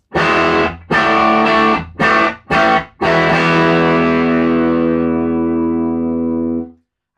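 A heavily distorted electric guitar strikes several choppy chords, then lets a final chord ring out and slowly fade.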